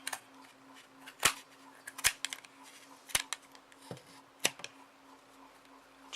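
Scissors snip through wrapped yarn while making a pom-pom, giving a series of sharp, close, separate cuts spaced irregularly about a second apart over a quiet background.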